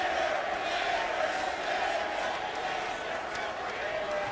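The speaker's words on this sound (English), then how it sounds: "The crowd may have started out chanting Niang's name, but they are finishing chanting Nader's name" A large basketball arena crowd during an Iowa State versus West Virginia game chants a player's name in a sustained roaring wash, loud and dense, with faint sharp sneaker or ball sounds poking through.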